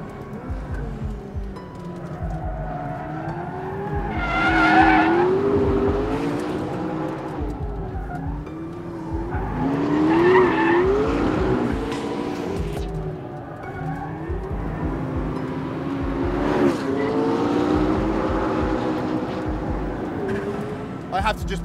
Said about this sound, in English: Just back it in, the chassis got balance, drift, go, and 900 horsepower.